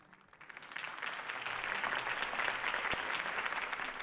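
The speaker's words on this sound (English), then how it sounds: "If only Mr. Wayne, my campaign's largest backer, could have heard that applause" Audience applause after a campaign speech swells in at about half a second and holds as loud, dense, sustained clapping to the end, with no speech over it.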